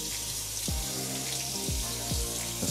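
Tap water pours steadily over a folded Samsung Galaxy Z Flip 4, a constant close splashing hiss with low thumping bursts where the stream hits the handset, and no voices.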